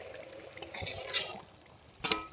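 Paneer stirred in a pan for a vegetarian paneer butter masala, with a few scraping bursts of a spatula against the pan over a quiet background, close by.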